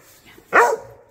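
An excited dog lets out a single loud, sharp bark close by during a subscription dog-toy box unboxing at home, with quiet room sound before and after.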